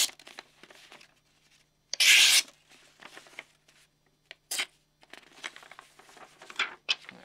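A blade of an A.G. Russell Black Dragon knife slicing through paper: one loud, short tearing swipe, then quieter rustles and small cuts nearby, with no talking.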